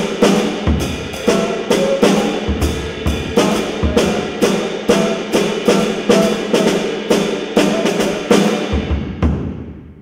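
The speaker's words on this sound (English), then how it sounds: "then the snare drum playing the melody with the bass drum playing in the holes of the melody" A snare drum plays the melody of a tune while a bass drum fills the gaps between its phrases. The hits are loud, steady and rhythmic, and no one talks.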